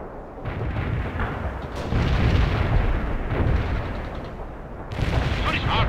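Artillery fire in the World in Conflict video game, set during a Soviet invasion of Norway: loud, continuous barrage of booms and rumbling blasts across the whole stretch, with a fresh burst of shots near the end.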